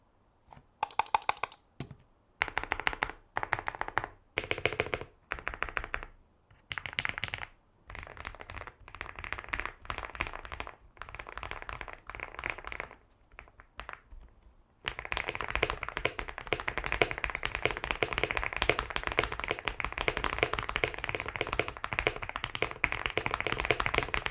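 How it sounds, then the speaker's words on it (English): Keys on a Leobog Hi75C mechanical keyboard clatter in short bursts of typing separated by pauses, then break into a long, dense run of rapid keystrokes, crisp and close with no talking. "now let's test the keyboard"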